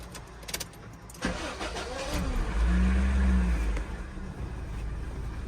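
A Honda Civic engine cranks and starts after a few faint knocks, then idles with a low steady rumble and brief rise in revs, close and fairly loud, run to test a newly fitted electric power steering motor.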